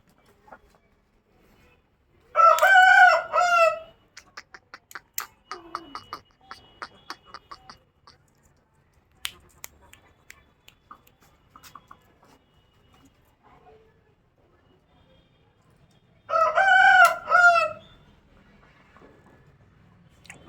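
A Yakut fighting rooster gives two loud, close crowing calls a few seconds apart, with scattered clucks and small clicks and knocks in between.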